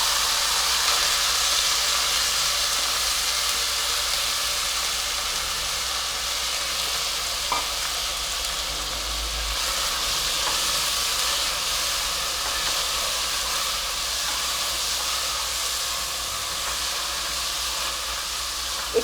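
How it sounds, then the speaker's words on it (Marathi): Mixed pulses are sautéed in hot oil with asafoetida and curry leaves, giving a long, steady sizzling hiss close by with occasional faint stirring, without any talking. "थोडंसं हिंग कढीपत्ता आणि आधी मी कडधान्य थोडीशी परतून घेणार आहे"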